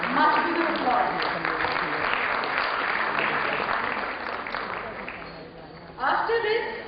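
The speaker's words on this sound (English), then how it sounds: "Definitely it requires much bigger applause." An audience at a record-recognition ceremony applauds in a sustained, dense patter of clapping that gradually thins, then a brief fresh burst of clapping comes near the end.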